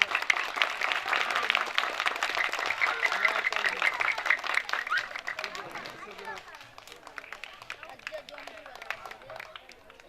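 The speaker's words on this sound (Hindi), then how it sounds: "तालियों की बौछार कर दें प्लीज।" Audience applause at a school annual day, a dense, steady clapping that starts strong and gradually thins toward the end.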